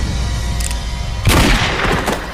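Gunfire rings out in an action film scene, a loud burst of shots and booms rising suddenly midway over a dense, noisy background, with no talk heard.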